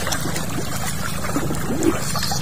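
River water flowing and trickling nearby, a quiet steady babble with a few small splashes and no talk.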